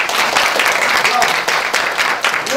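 Wedding guests clap together in a steady, dense patter that fills the room, close and loud, while people talk over the applause.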